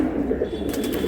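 Giribaz pigeons coo in a low, continuous murmur nearby, with a faint brighter chirping sound layered in toward the end.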